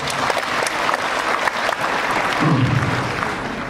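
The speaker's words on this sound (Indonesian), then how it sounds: "Boleh kita beri tepuk tangan dia." Audience applause fills the hall at a political gathering honoring Anwar Ibrahim, a steady dense clapping that swells slightly near the end, with a brief voice murmur underneath.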